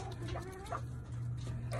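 Chickens cluck softly over steady low background noise while laying eggs, with short scattered clucks throughout and no talking.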